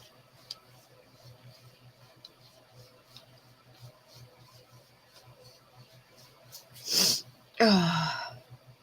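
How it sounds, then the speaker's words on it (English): Two high, squeaky human sneezes arrive in quick succession, loud and close, after several seconds of faint ticking and quiet room noise. "My squeaky sneezes."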